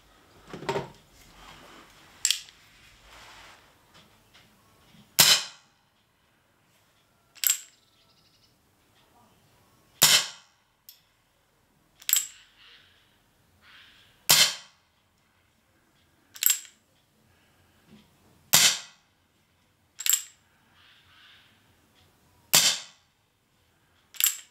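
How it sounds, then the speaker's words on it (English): A Crosman Remington 1875 air pistol fires BBs in a string of about ten sharp, loud cracks spaced a couple of seconds apart, with quieter handling clicks at the start and in some of the gaps. "We'll fire the BBs through it first."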